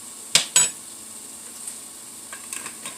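Garlic cooking in a pan, with two sharp clanks of a utensil against the pan near the start, a few lighter taps later and a faint, steady sizzle underneath.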